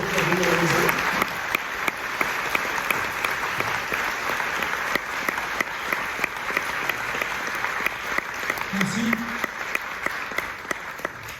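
A festival audience at a film premiere applauds steadily and loudly throughout, with clapping from many hands filling the room. Someone speaks briefly over the applause at the start and again near the end.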